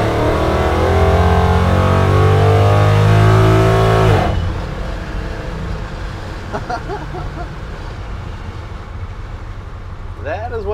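A 1971 Ford F100 truck with a swapped Coyote 5.0 V8 accelerates hard, a loud rising engine roar from inside the cab that drops off abruptly after about four seconds to a quieter road rumble with faint voices.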